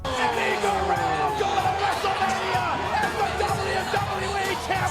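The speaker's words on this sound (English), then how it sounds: "The crowd erupted as he finally won the big one" Large wrestling arena crowd roaring and cheering continuously after Eddie Guerrero pins Brock Lesnar, a dense wall of yells and whoops sustained throughout.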